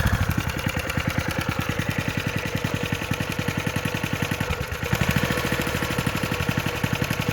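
A smoky engine idling steadily up close, with a loud, even chugging pulse throughout and a slight stumble partway through.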